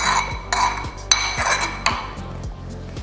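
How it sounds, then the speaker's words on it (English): Chimichurri sauce being stirred in a bowl with a spoon, sharp clinks and scrapes against the dish in an irregular rhythm, close and clear, with no talking. "Now let's give that a stir and see where our flavor is at."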